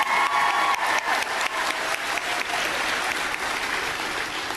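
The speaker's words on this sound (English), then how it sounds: "Let's give her a round of applause." A theatre audience at the Gaiety Theatre in Dublin gives a sustained round of applause, dense and loud throughout, with no talking over it.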